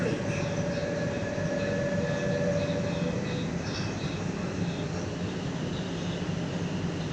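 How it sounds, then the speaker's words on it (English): A passenger train on the T8 Airport & South line rolls steadily near Waterfall Creek, a continuous rumbling hum with a faint tonal whine in the first half, heard from inside the carriage with no talk over it. "This train will stop at Walleye Creek"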